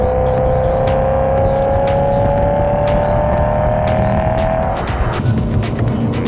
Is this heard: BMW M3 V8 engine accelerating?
yes